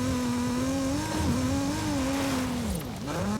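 A low car being driven in Forza Horizon 5, its engine note droning and wavering close up, then dipping as the revs fall and climb again near the end.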